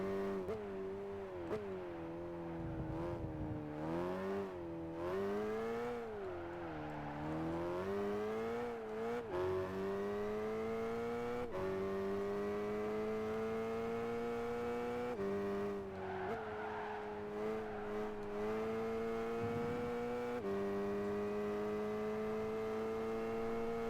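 A race car drifting in the video game Gran Turismo 5, a sustained engine drone whose pitch rises and dips through gear changes, with tire squeal as it slides, loud and continuous with no talking.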